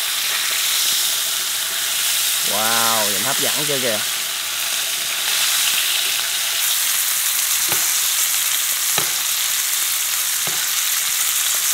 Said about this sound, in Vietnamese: Chiên bơ luôn nha bạn.